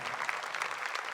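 A church congregation applauding during Catholic Mass, a brief continuous wash of many hands clapping at moderate distance, steady throughout.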